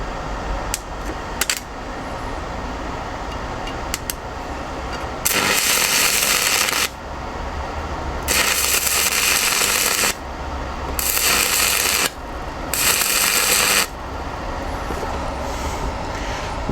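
Cheap Temu stick welder cranked to 140 amps arcing on wood, loud harsh crackling and sizzling bursts in several long stretches separated by quieter hissing gaps, with no talk.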